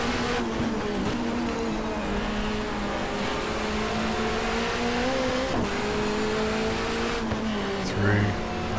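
Touring cars at the 1994 Macau Grand Prix round of the Asia-Pacific Touring Car Championship, engines droning and shifting pitch under braking and acceleration, with a commentator talking throughout.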